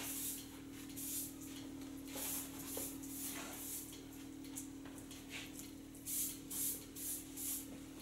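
Hairspray sprayed onto medium-long layered hair during styling, several short hissing bursts near the start and a rapid cluster of spritzes toward the end, over a steady background hum.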